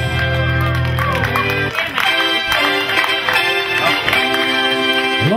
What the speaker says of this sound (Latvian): vecāku aplausi